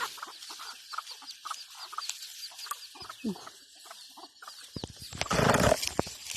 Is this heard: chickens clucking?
yes